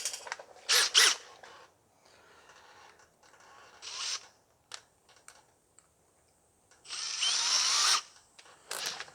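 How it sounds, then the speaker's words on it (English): A drill bores a hole during pipe retaining kit fitting on a John Deere 1640 tractor, sounding in short, close whirring bursts separated by quiet pauses and small clicks. "We'll probably have to re-grab the drill a couple of times."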